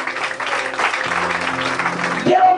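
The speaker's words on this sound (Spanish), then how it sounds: "le voy a suplicar que le dé un buen aplauso a nuestro Padre Celestial." Applause from a congregation gathered outdoors for a sermon on a hill, a broad sustained clatter of clapping with voices mixed in and a tonal cry rising near the end.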